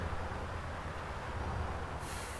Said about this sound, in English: If not, CJ will be bailing out of a moving train.